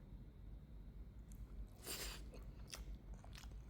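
Someone eating rice mixed with dal curry and lime pickle, with soft close chewing and a few crisp crunchy bites, faint and sparse against a quiet background.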